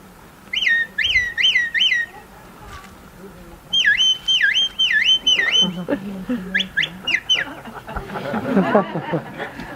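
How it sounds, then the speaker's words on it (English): Sharp, shrill shepherd's whistle signals to a sheepdog at a sheepdog trial in Kerry, in quick bursts: a rapid rising series, then a run of falling whistles and short blasts, with some faint talking near the end. "then it's far easier signal by whistle"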